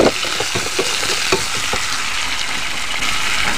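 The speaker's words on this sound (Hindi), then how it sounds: "अब हम इसी तेल में प्याज को फ्राई करेंगे।" Onion frying in hot oil left over from cooking pointed gourd and potato, a steady close sizzle with a few sharp crackles and pops near the start, no voices.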